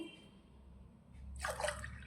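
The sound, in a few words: water poured into a cooking pot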